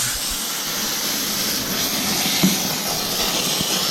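A steam cleaner gives a steady, loud, broadband hiss while cleaning dirty shower tile, continuous and close with no talk over it.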